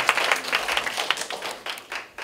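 Applause from students in a classroom during a digital media lecture: a short burst of brisk, close hand clapping from a small group, fading out within a couple of seconds.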